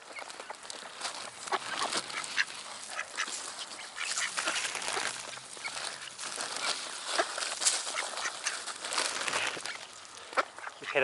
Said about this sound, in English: She's just straight into the seed bag, face plant, and she's about the size of a damn goose.